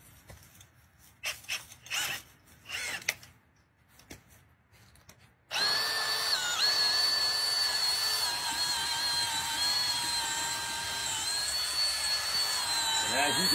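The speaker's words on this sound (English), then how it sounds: "You're going to want to stick this in and just start running your drill." A power drill spins a dryer vent cleaning brush inside a dryer vent pipe, starting abruptly after some quiet handling noises and then whirring steadily and loudly with a sustained high-pitched whine that shifts slightly in pitch.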